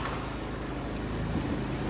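A Yamaha Blaster two-stroke ATV engine, a clone model, runs steadily up close with a dense, buzzing drone and slight rhythmic pulsing throughout, with no talk over it.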